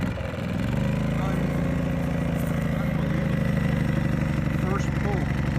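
A brand-new Powerhorse portable inverter generator, 2000 surge watts and 1600 rated watts, catches on the first pull and settles into a loud, steady engine drone close by, with a voice speaking over it.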